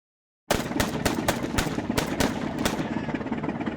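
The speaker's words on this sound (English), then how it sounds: "The brave scout shot out the cell locks" Rapid sharp shots ring out in a cartoon about tanks as a silenced gun blasts out cell locks, a quick irregular burst of about ten loud cracks over a rattling mechanical hum.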